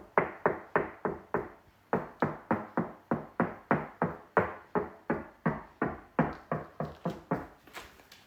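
Knuckles rap on an interior house wall in a long series of hollow knocks, steady and close, grouped in quick runs with brief pauses between them.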